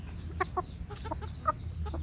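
KUB free-range chickens clucking close by, several short clucks in quick irregular succession over a low background rumble.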